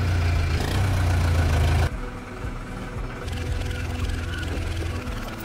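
A tractor engine runs steadily in a steep vineyard on a slope of more than 30%, giving a continuous low rumble that drops slightly in level partway through.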